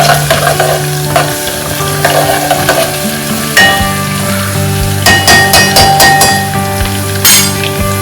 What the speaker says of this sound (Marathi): जीरा, सर्वात आधी हे मिक्स करून घेऊया.